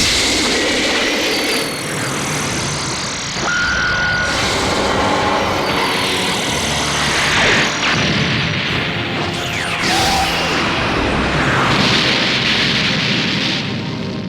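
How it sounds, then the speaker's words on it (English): Energy beam attack from the video game Dragon Ball Xenoverse 2, a loud sustained roaring, crackling blast with rumbling layers and sweeping whooshes lasting throughout, no talking. "Special Beam Cannon!"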